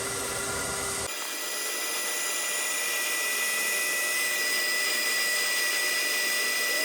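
A vacuum sucks debris out from between a radiator's fins, a loud, steady, close whooshing drone that switches on after about a second and holds without a break.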